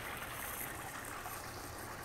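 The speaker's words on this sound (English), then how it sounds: "You can hear the waterfall off of the fire, off of the spa." Water from a spa waterfall spilling into a pebble-tech backyard pool at a Scottsdale rental home, heard as a steady, even hiss of falling water, close and unbroken, with no voices.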